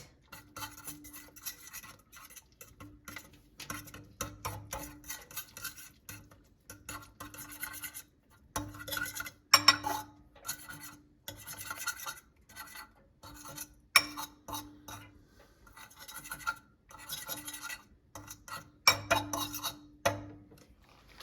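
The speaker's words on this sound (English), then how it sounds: "now I'm going to mix it again, just break it up and scramble it" Microwaved eggs being mixed and scrambled in a dish: quiet repeated scraping and clinking of a utensil against the bowl, close and steady with no talking.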